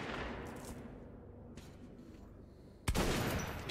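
Gunfire in the video game Metro 2033 Redux, a dense burst early on that fades, followed by a sudden loud shot or blast near the end.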